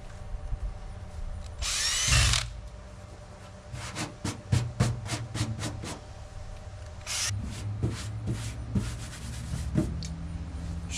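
A power drill bores holes into a brand-new bed side of a square-body Chevrolet C10 pickup while fitting an LMC side molding kit: a loud whining burst near the start, then a series of short, sharp drill pulses and a final longer run.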